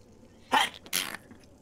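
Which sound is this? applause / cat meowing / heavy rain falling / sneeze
sneeze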